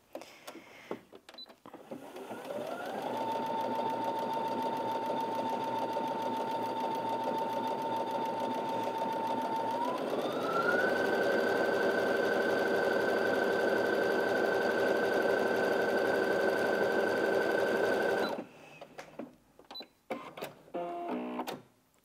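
A Brother Innov-is A150 sewing machine runs a triple straight stitch in a steady whirring hum that steps up in pitch to full speed partway through, loud and continuous, then stops near the end.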